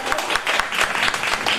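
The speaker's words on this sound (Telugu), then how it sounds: "క్లాప్స్ కొట్టండి అందరూ." Applause from an audience at a school reunion event, a short burst of many hands clapping nearby, dense and fairly loud, with no voices over it.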